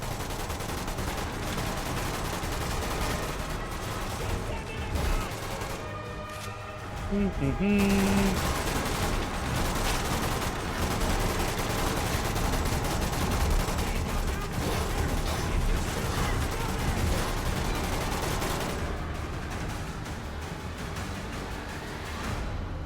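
Sustained gunfire in the VR video game Metro Awakening VR, dense rapid bursts running almost continuously at high volume with talk woven through.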